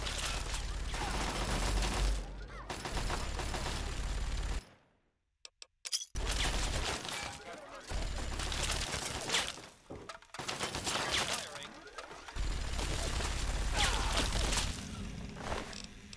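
Ammunition rounds cook off in the video game Fallout 3, a dense, continuous crackle of rapid pops with a brief silent gap, then more bursts of sharp popping running on for several seconds.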